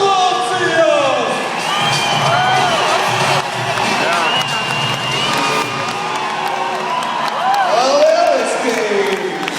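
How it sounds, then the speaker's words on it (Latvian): Large outdoor crowd cheering, whooping and shouting throughout an ovation at a freestyle motocross show in Riga, steady and loud, with high shouts and children's cries rising above the roar. "Ovācijās!"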